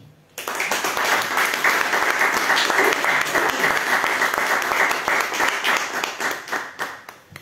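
An audience applauds at the close of a lecture on Portuguese literature, clapping bursting in suddenly, then holding full and steady before thinning toward the end.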